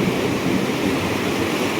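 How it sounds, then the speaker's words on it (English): Powerful river water rushes through a narrow pinch point between two rocks at Big South Fork National River, a steady, dense, loud roar filling the whole clip without a break. "seeing how much water is literally just right there in this pinch off point between the two rocks"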